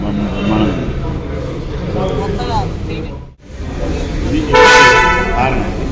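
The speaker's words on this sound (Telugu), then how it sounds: "అది హార్న్" A newly booked car sounds its horn once, a brief, loud honk near the end that follows people talking over a quieter background.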